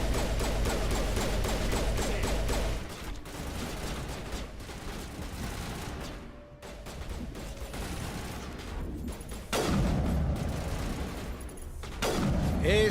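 Gunfire in the video game Mass Effect during a Citadel Tower sidequest, dense bursts of shots and booms that thin out midway and then return loud, with faint talk underneath.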